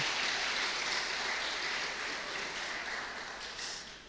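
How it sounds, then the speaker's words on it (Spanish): An audience claps for the children at a church gathering, a dense steady patter of applause that slowly fades over a few seconds, with no talking. "Un aplauso para los niños."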